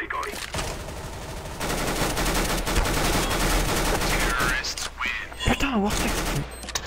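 CS:GO gunfire crackles in rapid, sustained bursts, loud and close, with dense fusillade running through the middle stretch before thinning into scattered shots, while players talk over the action.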